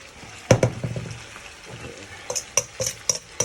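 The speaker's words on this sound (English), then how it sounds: "Just gonna now put my prawns in." Prawns drop into a hot pan of curry with a sharp sizzle, then a spoon scrapes and taps the pan in repeated clicks over continuing frying.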